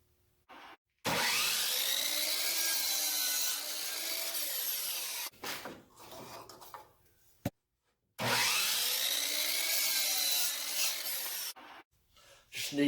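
A piece of wood is cut by hand in two long sawing passes, each a rasping back-and-forth scrape lasting a few seconds, close and loud with brief pauses between.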